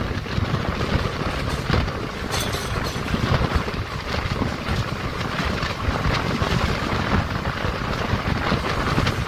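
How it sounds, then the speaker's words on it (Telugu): Satavahana Express running, a loud steady rumble and rattling clatter of the carriage heard from on board, mixed with rushing wind noise for the whole stretch. "మన శాతవాహన ఎక్స్ప్రెస్ అండి ఇది"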